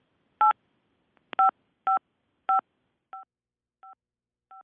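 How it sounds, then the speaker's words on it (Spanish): Telephone keypad buttons pressed during a call give seven separate DTMF beeps at an uneven pace, the first four loud and close and the last three fainter, with silence between them. "tiene el teléfono pegado, muy pegado a la cara, y está sonando los botones, el teclado"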